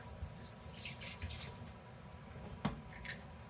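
Tap water runs briefly over a kitchen knife while garlic is being minced for an elote salad, a soft splashing trickle with a short sharper clink near the end.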